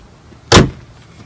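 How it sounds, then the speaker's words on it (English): Hood of a 2013 Chevrolet Equinox pulled down and shut, a single sharp close-range thump with a brief ringing decay, alone in a quiet setting. "I'll just get you to pull down the hood."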